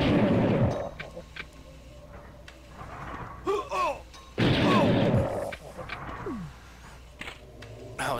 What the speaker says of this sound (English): Energy shotgun.